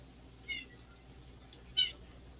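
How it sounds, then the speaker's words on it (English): Two short meows from a cat somewhere off in the background, separated by a pause, over a quiet room. "And that is a cat in the background meowing at my wife for a treat."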